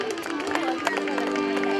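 An audience at a Shrimad Bhagavat religious ceremony claps together, a dense, even patter of many hands close up, with a held tone and some voices mixed underneath.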